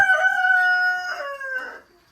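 A rooster crows once nearby, a clear, drawn-out cock-a-doodle-doo that trails off at the end.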